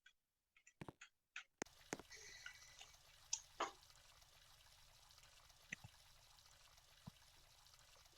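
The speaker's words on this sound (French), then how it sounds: "Bon, bah, je vais à la douche." A shower runs in a home bathroom as a steady, faint hiss of spraying water that starts suddenly after a few soft knocks and clicks, continuing with occasional small taps.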